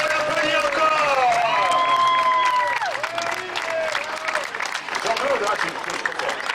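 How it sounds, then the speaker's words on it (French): A crowd applauds and cheers for a 64-year-old runner who finished his 160th marathon in under three hours, at a La France en Courant running event in Crouy. Sustained clapping with whoops, and voices talking over it throughout. "Allez, on applaudit encore."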